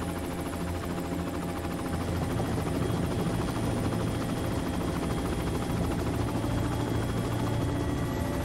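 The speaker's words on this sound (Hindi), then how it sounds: "हेलीकॉप्टर नीचे लो।" A helicopter's steady, loud rotor drone and engine roar, continuous and close throughout, with no talking.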